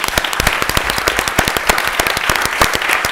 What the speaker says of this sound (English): a big round of applause for the mayor